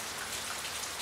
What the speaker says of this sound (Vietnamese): Nếu trời cứ mưa thế này cả tuần